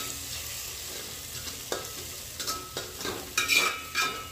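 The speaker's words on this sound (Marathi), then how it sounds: "आता हा मसाला छान परतून घ्यायचा।" Masala of turmeric, garam masala and chili powder sautéing in a pan for mint rice, a soft steady sizzle with spatula scrapes growing louder and more frequent in the final seconds.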